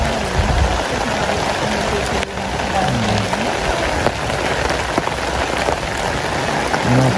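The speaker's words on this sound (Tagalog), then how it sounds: "Nabot na naman tayo ng malakas na ulan." Heavy rain pours down steadily in a broadband wash, close and loud throughout, while indistinct voices murmur faintly underneath.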